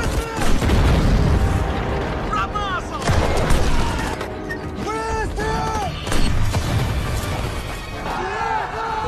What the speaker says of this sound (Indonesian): Lavrov dengan artilerinya terus menggempur tank milik tentara Jerman